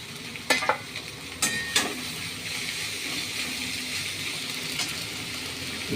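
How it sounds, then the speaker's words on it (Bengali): Julienned cabbage, carrot, capsicum and onion tipped into a hot pan: a few sharp clatters and stirring knocks over a continuous soft sizzle of frying vegetables, with no voices. "এবার সবজিটা ঢেলে দিই"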